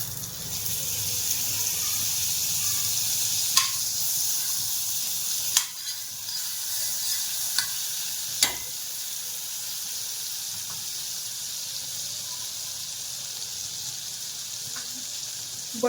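Butter melting in a pan for white sauce pasta gives a steady soft sizzle and hiss, fairly faint, with a few sharp clinks and taps standing out along the way.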